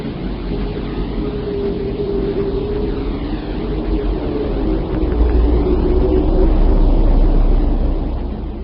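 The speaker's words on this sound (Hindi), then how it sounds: "सबसे पहले सुनते हैं हम अपने ग्रह पृथ्वी की आवाज को, जो कि पृथ्वी की बाहरी कक्षा से रिकॉर्ड की गई है।" A sonified recording of planet Earth from outer orbit gives a continuous loud, eerie drone with rushing noise and a slowly shifting tonal hum that deepens and swells midway, with no voices.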